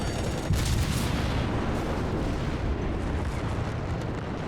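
Naval guns boom in a dense, continuous barrage with shell impacts rumbling in a World of Warships battle against the cruiser Phoenix, loud and sustained throughout with no voice over it.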